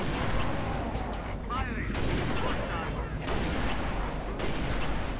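Gunfire in the video game Halo Reach: dense, continuous shooting and booming blasts fill the whole stretch at steady loudness, with a few short breaks where other game effects show through.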